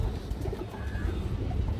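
Caged pigeons, a lively female among them, give low burbling coos up close, a dense steady murmur with no speech.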